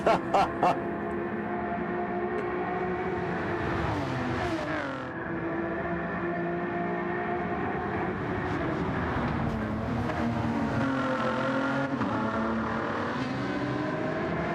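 Race cars in a Vegas Cup Series round roar past on track, sustained engine drone rising and falling as they accelerate and shift, with a few sharp knocks at the start.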